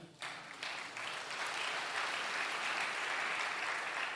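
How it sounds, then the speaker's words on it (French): A church congregation breaks into continuous applause and cheering during a French-language sermon, a dense crowd roar that swells and holds steady without pause. "Neuvièmement, acclamez pour vous-même."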